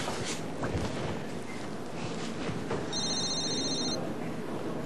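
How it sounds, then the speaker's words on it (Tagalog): A telephone rings as a brief electronic trill near the end, under constant background noise in a drama scene, with no speech over it. "hindi mo ba sasagutin yung tumatawag sa'yo?"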